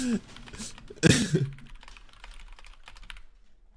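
Quick clicks of keys being typed on a keyboard, with a brief cough or vocal burst partway through, then lighter tapping continuing.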